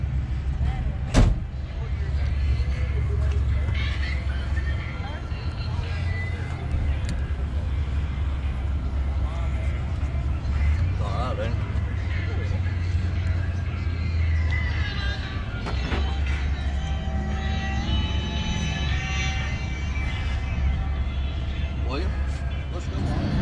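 Rumbling engine of a car at a rod run in Pigeon Forge: a steady deep low rumble that carries throughout, with crowd noise and occasional talk over it.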